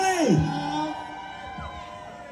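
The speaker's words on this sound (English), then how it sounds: "Please make some noise for Billy the Goat." A crowd cheers and whoops for a drag performer at a Harlem Pride event, a loud burst of voices swelling at first and then settling into sustained, slightly distant cheering.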